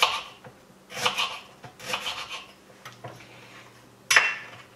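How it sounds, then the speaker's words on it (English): A knife chops through fresh ginger on a board in several uneven strokes, close and fairly crisp, with a sharper cut near the end. "Now I'm just chopping up some ginger here."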